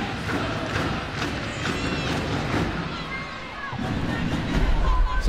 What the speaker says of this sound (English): It's a very noisy crowd.